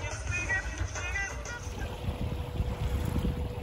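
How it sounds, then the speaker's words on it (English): A Mini Transat sailboat motor sailing toward a race start on San Francisco Bay, giving a steady low engine and water rumble with wind noise, continuous and fairly loud, with no talk. "Still motor sailing to the start,"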